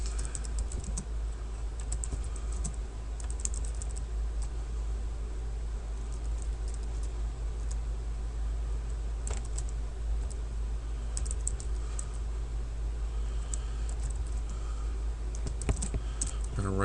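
Typing on a computer keyboard while writing text into a customized web form makes a steady patter of close key clicks over a low hum, with a few louder taps near the end.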